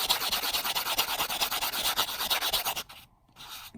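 A 1954 silver quarter being shaped into a coin ring is sanded with finer-grit paper, giving rapid, rhythmic scratchy rubbing strokes close up, pausing briefly before a last few strokes.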